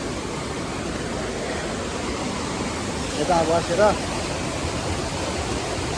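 A buffalo swims across a wide, strong river as the current rushes in a steady, loud broadband wash, with a voice speaking briefly over it.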